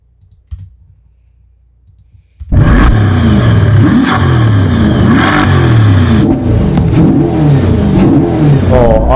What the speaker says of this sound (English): Oh, I love the way it just shakes the car with the inertia of the engine.